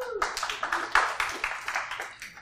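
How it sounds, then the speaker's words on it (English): An audience claps just before a live coding demo at a conference talk on building functional reactive view models from Sketch to Xcode. The applause is dense, steady and fairly close, with a voice faintly underneath. "So just clap regardless of what happens."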